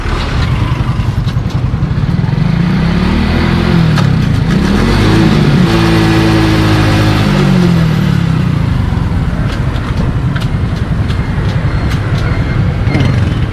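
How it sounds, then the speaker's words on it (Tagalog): A motorcycle engine, recently repaired after a loose chain, runs loud and close, its pitch climbing and settling in rising sweeps as it revs up through the gears to fourth, with no talking over it. "i-start mo ulit yung makina paandarin mo hanggang 4th gear"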